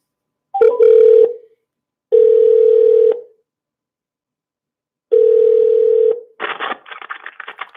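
Repeated telephone tone bursts as a call is connected, three steady pulses separated by silence, followed by a short rapid flurry of dialing-style beeps, loud and clear with no voices.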